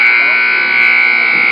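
A basketball game-end buzzer at a junior varsity high school game sounds one loud, steady electronic drone that holds unbroken for over a second, with faint gym noise around it.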